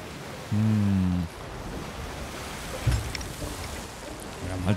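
Wind and sea waves wash steadily around a sailing ship in the video game Sea of Thieves, a broad rushing surf bed broken by a short, low horn-like tone near the start.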